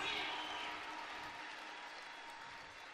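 Spectators applaud at a speed skating World Cup session in Calgary, a brief burst of clapping from a crowd on its feet that fades gradually, heard at moderate distance.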